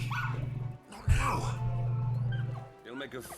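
A puppy in Final Fantasy XVI yips and whimpers in short high bursts over a steady low drone, with a brief louder cry near the middle and a few faint yelps toward the end.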